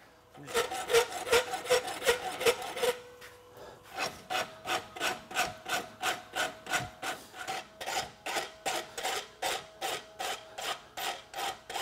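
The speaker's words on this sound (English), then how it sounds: "Now I can go to rasping on it." A blacksmith rasps the heel caulk of a horseshoe in steady back-and-forth rough scraping strokes. A quicker burst comes first, then a long run of evenly spaced, close, loud strokes.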